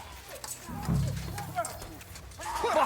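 Horse hooves clip-clop in the medieval video game Kingdom Come: Deliverance II, mixed with snorting and game effects while someone shouts over them.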